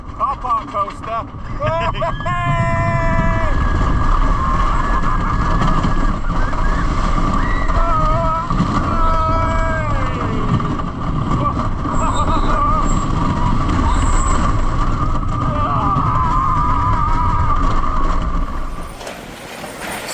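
A small car park roller coaster running at Plopsaland in Belgium, with rattling track noise, squealing wheels and steady rumble beneath people talking and excited voices throughout the ride.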